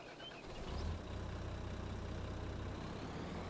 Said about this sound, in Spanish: Voy a pillar el tractor.